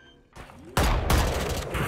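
Rapid gunfire in the shooter game Valorant during a headshot exchange, a quieter burst first, then a sudden loud, sustained volley of close shots with a dense, crackling texture.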